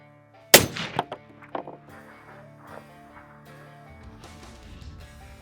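A single loud rifle shot cracks out while hunting, sharp and close, followed by a fading echo rolling across open ground and then quiet.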